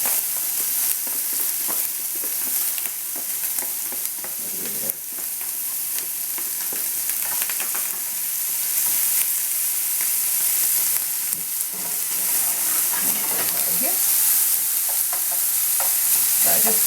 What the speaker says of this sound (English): so we've got our nice sizzle.